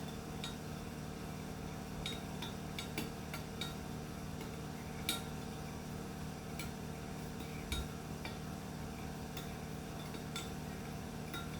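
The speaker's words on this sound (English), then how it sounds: "And I'm just going to stir it up here." Spoon clinking against a glass or bowl while stirring raw honey into a homemade body wash mixture, light scattered taps and scrapes repeating over a steady low background hum, close and quiet.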